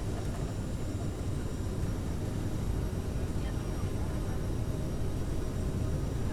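A CRJ-700 airliner's jet engines roar through the takeoff roll in Microsoft Flight Simulator, a steady, dense low rumble holding at constant loudness throughout.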